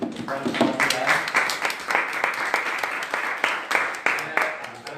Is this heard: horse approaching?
no